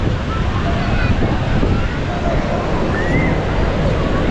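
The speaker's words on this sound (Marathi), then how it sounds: "स्वच्छ आणि सुंदर असा हा समुद्रकिनारा आहे" Surf rolls onto the beach at Ganpatipule in Ratnagiri as a loud, steady broadband roar, mixed with wind buffeting the microphone and a voice faintly underneath.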